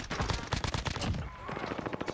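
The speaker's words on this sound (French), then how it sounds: "je me fais tirer dessus" Rapid gunfire in a shooter game, a dense stream of close, sharp shots in quick succession that thins into a lighter rattle after about a second.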